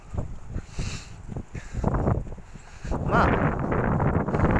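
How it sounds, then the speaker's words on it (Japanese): Strong wind gusts buffet the microphone outdoors at an ancient burial mound, loud and uneven roaring in surges, with a brief spoken word near the start. "風はなんか結構強く吹いてますよ。"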